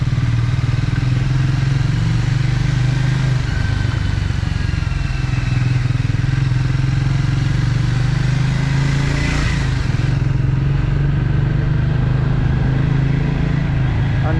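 A Triumph Speed T4 400cc motorcycle exhaust drones loudly and continuously up close, a thick low engine note with a steady beat that barely changes over the whole stretch.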